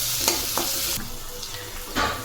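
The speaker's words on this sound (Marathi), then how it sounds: "तेल गरम झालं, त्यामध्ये आपण जिरे मोहरी टाकू, वाटलेला लसूण, थोडीशी कोथिंबीर, चिरलेलं वांगं। आता हे व्यवस्थित परतून घेऊ आपण।" Chopped brinjal sautéing in hot oil with cumin, mustard seeds, ground garlic and a little coriander, a steady close sizzle broken by a few sharp spatula scrapes and stirs.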